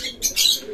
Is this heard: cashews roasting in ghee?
no